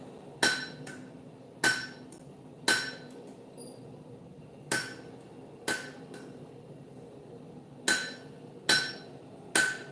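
A blacksmith's hammer strikes metal in a forge workshop, with nine sharp ringing clanks in an uneven rhythm, loud and close over a low steady background hum.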